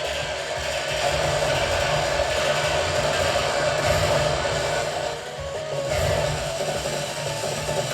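The Doom Train summon from the Final Fantasy VIII video game rumbles along with a loud, continuous mechanical clatter of ratcheting gears and rail noise, steady over several seconds.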